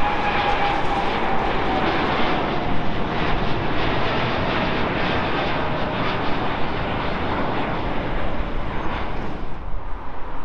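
Boeing 787-9 Dreamliner jet engines roar steadily and loudly throughout, a broad continuous rumble with a faint whine, no voices.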